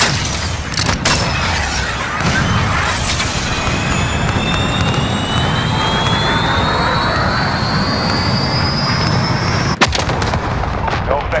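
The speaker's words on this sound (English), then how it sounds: "Jaguar, missile away." A cruise missile launch in a Call of Duty video game brings a loud, sustained roaring rush with rising whistling tones and a sharp crack near the end.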